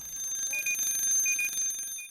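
An SCBA low-pressure alarm, signalling a firefighter's air cylinder down to about a quarter of capacity, beeps in a short repeating high-pitched pattern, close and steady over a faint background hum.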